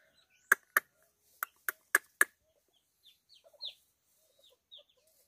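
Several sharp, short clucks from a hen in quick succession, followed by soft, high peeping from chicks nearby, with quiet pauses between.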